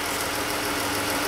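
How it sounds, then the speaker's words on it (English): A Chrysler Pentastar V6 engine idles after roller rocker and lifter replacement, a steady, loud, close mechanical hum with dense broadband noise and no ticking standing out, with no voices. "Idling's good."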